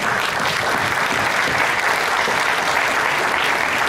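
Dense, steady applause from a large audience at a lecture, continuous clapping at full volume throughout with no speech over it.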